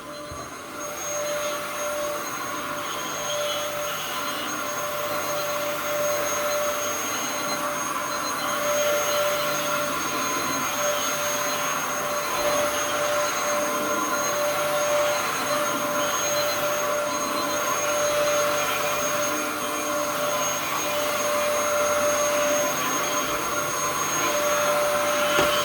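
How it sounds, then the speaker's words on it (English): A Dyson vacuum cleaner runs steadily and loudly in a home, a continuous motor whine with airflow rush and a few steady tonal hums, unbroken for the whole stretch with no talking. "I like to use my Dyson when I'm doing my zone wear."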